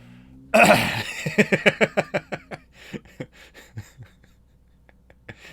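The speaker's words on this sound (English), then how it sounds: "That's why I'm coughing so bad." A burst of harsh coughing, then a rapid run of shorter coughs tapering off into a few scattered, quieter hacks; close and loud at first, during a miniature painting competition livestream.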